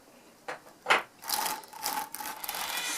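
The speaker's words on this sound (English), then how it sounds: "I can also use the brush that comes with the machine and dab it down, like so" Brush dabbing Texel/Finewool fleece down onto the drum of an Ekelund drum carder: a couple of soft dull taps, then sustained scratchy brushing and rubbing against the carding cloth, close and fairly quiet.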